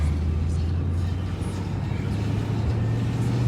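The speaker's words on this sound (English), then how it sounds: "test driving the car real quick" A 2016 Chevrolet SS on a test drive gives a steady, loud low drone of engine and road rumble that holds evenly throughout, heard from inside the car.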